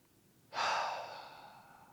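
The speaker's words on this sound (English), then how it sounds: "We'll take an inhale and an exhale." A single sharp, breathy inhale followed by a gradually fading exhale, close and fairly clear, from a seniors' strength and balance exercise session.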